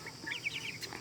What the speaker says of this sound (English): What kind of meat birds do you guys have in here? They are Cornish game hen